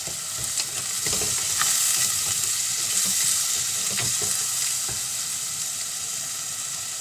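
Chopped tomato sautés in a pan for a mackerel chilli curry, giving a continuous close sizzle broken by scraping and clinking stirs.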